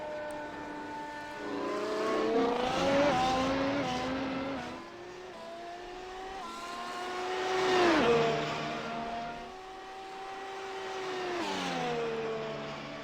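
F1 race cars in a racing video game lap the Monza circuit, their high engines whining and revving up and down in repeated rising and falling sweeps as they pass, moderately loud with no talk.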